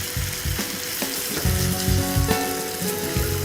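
Paneer grilling in a hot pan, a steady bright sizzle and crackle with soft periodic stirring or shifting sounds, close and continuous with no talk.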